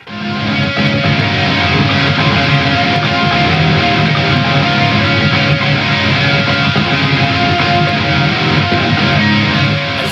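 Pop punk guitar arrangement: a sustained droning lead melody rides over a chugging rhythm guitar part, steady and loud throughout with no voices.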